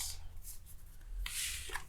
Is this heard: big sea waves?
no